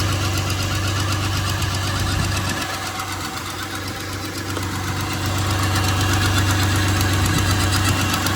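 A used auction car's engine running steadily at idle, a loud, close, continuous rumbling drone with a low hum and a faint rhythmic knock.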